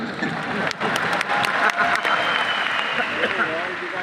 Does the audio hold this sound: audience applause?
yes